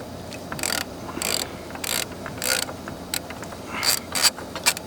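A ratchet wrench with a deep socket clicks in quick bursts, loosening a battery nut on a 2015 Nissan Pathfinder SL, the rapid pawl ticks repeating close up in short strokes.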